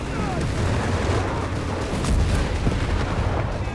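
Dense, rumbling battle noise from the Company of Heroes 3 video game as Panther tanks take fire, with continuous booming gunfire and explosions that build in the middle, loud and constant.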